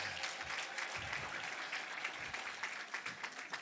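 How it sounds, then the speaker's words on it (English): Applause at an independence day celebration held at an embassy in Washington, DC, a fairly quiet, steady patter of clapping from a gathered crowd, slightly distant and even, with a few low thumps underneath. "Round of applause."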